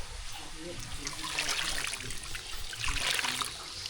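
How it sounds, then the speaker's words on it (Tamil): Tamarind water is poured into a pot of sambar rice, a steady liquid trickle and splash that swells twice in the middle and near the end over a faint background. "லாஸ்ட்டாக சாம்பார் சாதத்துக்கு வந்து புளி தண்ணி சேர்த்துக்கலாம்"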